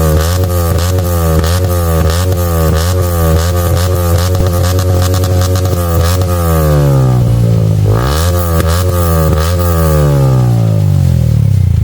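Motorcycle engine at an Indian bike show event, revving hard and continuously, loud and close, the pitch climbing and falling through repeated throttle blips with a deep rumbling tone throughout.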